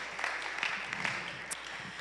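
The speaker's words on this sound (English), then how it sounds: "Let's give them one more round of applause." A church congregation applauds its youth bands at a Sunday service, a steady wash of many hands clapping at moderate distance, fairly soft and even throughout with no voices on top.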